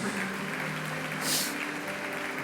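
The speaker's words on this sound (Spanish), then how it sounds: "Damos fuerte esa ofrenda de palmas a nuestro Dios" A church congregation claps together in a steady burst of applause lasting a couple of seconds, close and fairly loud, with no talk over it.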